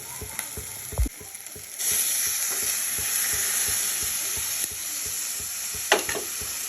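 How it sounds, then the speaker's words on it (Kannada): Cooked vegetables tip into tomato frying in a pan for okra vegetable rice, setting off a loud, steady sizzle with clattering spoon stirs and a few sharp knocks. "ಬೇಯಿಸಿಕೊಂಡಂತಹ ತರಕಾರಿಗಳನ್ನು ಇದಕ್ಕೆ ಹಾಕ್ತಾ ಇದ್ದೀನಿ"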